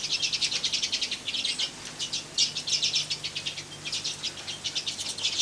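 Dense, continuous chirping from many small birds in aviary pens close by, rapid high tweets overlapping in a busy flock chatter with no voices.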